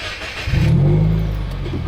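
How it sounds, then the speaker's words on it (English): A 2015–2017 Subaru WRX with a REMARK muffler delete exhaust starts to pull away after quiet idle, its engine note rising into a deep, loud rumble that holds steady. "first time taking this REMARK Muffler Delete. First time taking it around the block"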